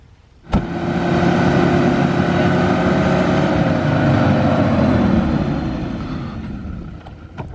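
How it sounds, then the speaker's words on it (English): A Toyota's engine roars at full throttle as its wheels spin while stuck, overlanding near Taif, Saudi Arabia, a loud sustained revving that starts abruptly and holds steady before easing off toward the end. "when your wheels start to spin, all they do is spin"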